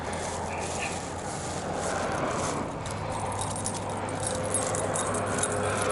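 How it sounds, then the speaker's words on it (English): A bunch of keys jangles and clinks continuously at close range beside a Kenworth W900 truck and trailer while a kingpin lock is fitted, with faint engine hum underneath. "Too many keys."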